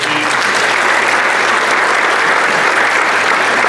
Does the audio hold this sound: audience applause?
yes